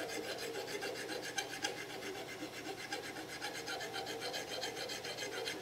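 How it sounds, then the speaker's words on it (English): A half round file rasps steadily across brass parts in quick repeated strokes, a close, continuous scraping with no talking. "So with the half round file, you can alternate between the flat side and the round side if you should need it."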